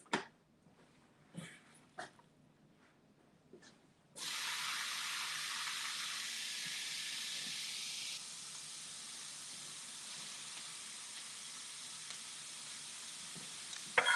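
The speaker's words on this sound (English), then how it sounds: "let's add in our onions" Chopped onions hit a hot pan for a chicken and spinach casserole, bursting into a loud steady sizzle that holds, then eases to a softer hiss, after a few faint clicks and knocks.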